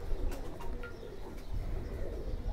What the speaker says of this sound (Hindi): ये नुमान भाई आपके लिए जो कबूतर मैं दिखा रहा हूँ फिरोज़पुरी कबूतर